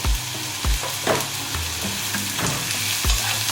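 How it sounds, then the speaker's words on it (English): Onions sautéing with ginger in a pan for chicken biryani give a steady sizzling fry, with a few louder stirring scrapes and bumps repeating through it. No one speaks. "we're gonna take our onions. Then we're gonna basically saute it"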